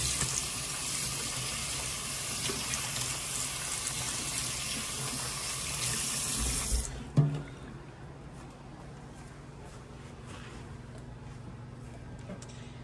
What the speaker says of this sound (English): Now, I'm gonna wash off my hands.